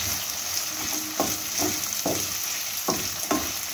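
Chopped onions frying in oil, a continuous close sizzle broken by several sharp stirring scrapes at irregular intervals.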